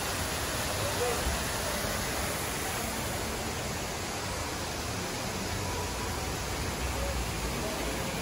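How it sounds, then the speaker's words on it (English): A small waterfall in the Pandora area at night, a steady broadband rushing of water that stays constant throughout, with no clear voices over it. "Nice little waterfall."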